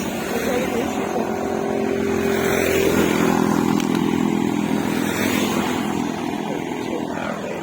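A Suzuki GD 110S petrol motorcycle engine runs steadily throughout, a close, constant rumble with slight rises in pitch as it pulls away, loud and unbroken.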